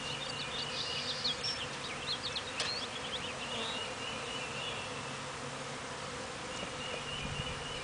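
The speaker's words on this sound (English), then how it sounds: "This must have just happened because that swarm was very calm." Honeybee swarm buzzing steadily throughout, a continuous close drone of many insects with no talk, outdoors.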